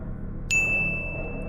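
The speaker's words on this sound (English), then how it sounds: "ring the bell so you never miss a video again" A single bright notification bell ding strikes once and rings out with a clear, sustained tone over a low background hum.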